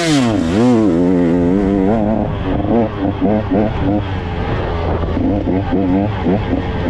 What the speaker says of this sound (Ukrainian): Включаємо другу передачу, повний газ і вперед.